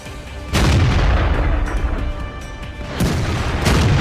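Tank cannon shots hitting an enemy in World of Tanks, with two heavy booming blasts about two and a half seconds apart, each followed by a loud rumbling decay over continuous engine noise. No one is talking.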